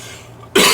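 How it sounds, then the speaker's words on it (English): A single sharp cough, loud and close, bursting out abruptly after a quiet moment. "Excuse me for coughing."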